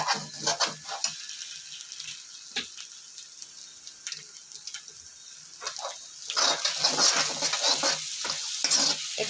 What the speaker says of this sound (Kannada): ಇವಾಗ ನೋಡಿ ಮೊಟ್ಟೆ ಚೆನ್ನಾಗಿ ಫ್ರೈ ಆಗಿದೆ